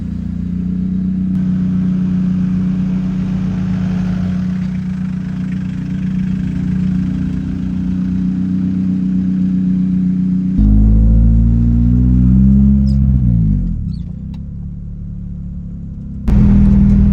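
Hyundai Galloper engine idling with a steady low rumble, then a brief rev that swells and settles back, heard from inside the vehicle while driving home, loud and continuous.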